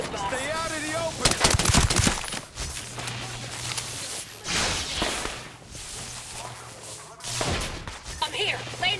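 Automatic rifle fire in Ghost Recon Breakpoint rattles in several sharp, loud bursts, with voices talking in between amid a steady low background drone.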